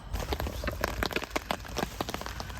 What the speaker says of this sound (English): it's raining pretty heavy now